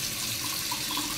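Cold water runs steadily from a tap, a close, continuous splashing hiss into a sink with an even level and no pauses or voices.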